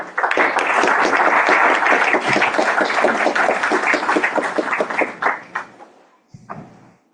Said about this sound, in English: Let's all give a round of applause to Mr. Boyd.